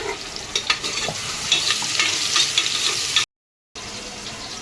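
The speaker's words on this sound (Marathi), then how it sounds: "कांदा छान गोल्डन ब्राऊन कलरचा झाला आहे, तर आपण हा टमाटर ॲड करून घेणार." Golden-brown onion frying with tomato as it is stirred in a pan, a steady sizzle broken by scraping spoon strokes, close, then a short gap of silence before the frying resumes.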